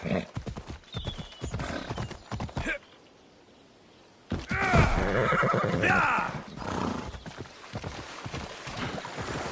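A horse in Assassin's Creed Odyssey gallops with busy clip-clopping hooves and neighs, broken by a short quiet gap before the hoofbeats and a loud whinny return.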